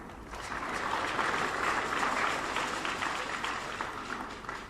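Audience applause at the first edition of the Fofo Djaka Xwé event, a steady, dense wash of clapping held at an even level throughout, heard from a moderate distance.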